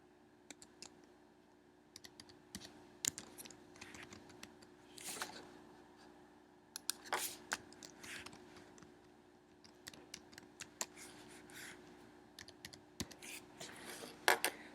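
Keys on a computer keyboard click in irregular bursts as a new password is typed, close and fairly quiet, with scattered sharp taps and short pauses between runs of keystrokes.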